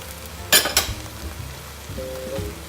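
Onions, mushrooms, carrot and celery tipped into a hot pan, with a couple of sharp clattering drops followed by a soft, faint sizzle.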